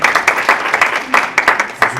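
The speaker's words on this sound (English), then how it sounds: "we should give applause for that" Audience applause at a disability forum in Iowa, a burst of close, dense clapping from a seated crowd, steady and full throughout with no talk over it.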